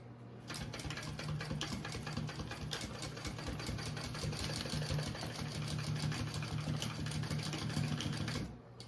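Steady machine stitching runs across a marking on a travel tote, a close, even, rapid whirr that holds for about eight seconds before stopping, with no talking over it.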